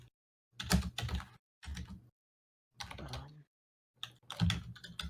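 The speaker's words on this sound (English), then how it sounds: "Loud keyboard clacks." Loud computer keyboard clacking in short bursts of rapid keystrokes separated by silent gaps, close and crisp, with no voices.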